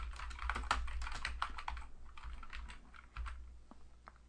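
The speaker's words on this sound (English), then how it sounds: "we will type in a character name, Jonas." Fingers typing a character name on a computer keyboard, a quick close run of light key clicks with brief pauses, fairly quiet and alone.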